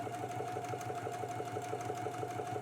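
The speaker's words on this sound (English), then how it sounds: "Now I'm gonna go to the sewing machine and I'm just gonna stitch following along with my basting stitch." A sewing machine runs steadily, stitching a patch pocket with a flap along a basting line, its quick even needle rhythm close and constant with no talk.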